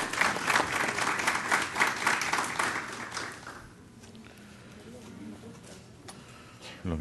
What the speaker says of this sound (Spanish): pido que los presentes les brinden un fuerte aplauso